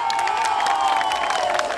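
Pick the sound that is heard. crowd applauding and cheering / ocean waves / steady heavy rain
crowd applauding and cheering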